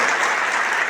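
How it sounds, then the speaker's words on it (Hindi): Loud, steady applause from a crowd at a Bharat Adivasi Party membership rally in Udaipur, a dense wash of clapping that fills the whole second without a break. "उनके लिए एक बार जोरदार तालियों से स्वागत है"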